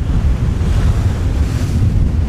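Sea waves wash against the shore of Bantayan island in the Philippines while wind buffets the microphone, a steady, loud low rumble of surf and gusts with no voices.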